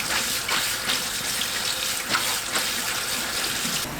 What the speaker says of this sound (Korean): 물에 가볍게 헹궈내세요.